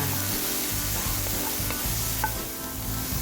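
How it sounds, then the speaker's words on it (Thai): Pork stir-frying in a little oil for a dumpling filling, a steady close sizzle with stirring scrapes and soft clinks running continuously throughout. "ตั้งน้ำมันเล็กน้อยนะคะ ใส่หมูลงไปผัดให้สุกค่ะ"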